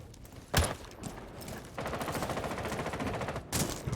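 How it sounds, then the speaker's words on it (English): Gunfire in a Rainbow Six collegiate esports match: two sharp single shots, then a rapid automatic burst of rattling rounds lasting over a second, followed by another sharp shot, moderately distant. "We're already hearing some gunshots"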